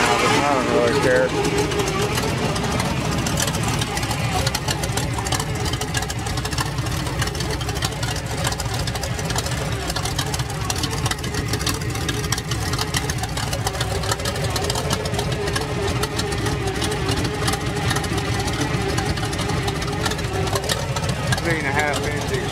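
A cammed car engine with headers and exhaust dumps idles around 600 RPM, a loud, close, lopey rumble running steadily throughout.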